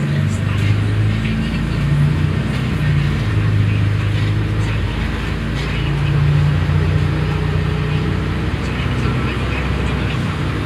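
A free Royal airport shuttle bus running from TOD M1 to Terminal 1A drives along with a steady low engine drone and road rumble, and muffled voices are heard inside.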